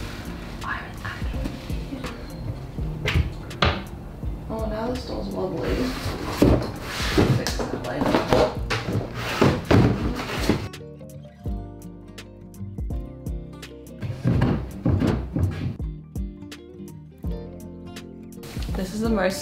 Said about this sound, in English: Turns out I could literally just take out the shelf without having to take the door off.